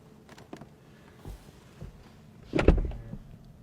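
A Mercedes-Benz S-Class W223 rear door pulls itself shut with its soft-close mechanism, giving a faint mechanical whir that builds into a firmer thud and latch near the end, heard up close with no talking.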